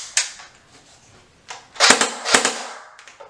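Airsoft P90 dry fired with nothing loaded, giving several sharp, loud clicking cracks, one early and a quick cluster of louder bursts later, close by and with no talking.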